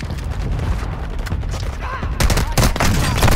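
Heavy automatic gunfire on Ashika Island in Call of Duty Warzone Resurgence, dense overlapping shots rattling nearby and growing louder and sharper toward the end, with a faint voice in the mix.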